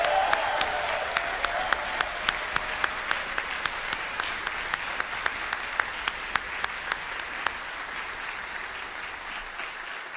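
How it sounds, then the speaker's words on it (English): A concert audience applauds for Tom at a wind symphony performance with Colgan High School, sustained dense clapping with a few sharp individual claps standing out, steady throughout before easing slightly near the end. "I'd like to give Tom a big round of applause."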